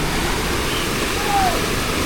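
Floodwater rushes steadily during a typhoon in Noveleta, Cavite, a broad continuous roar of water close by with no break over the whole stretch.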